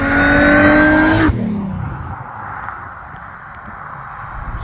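Car engine driving along a road, a loud steady revving drone that drops sharply after about a second into quieter road rumble, with no talking.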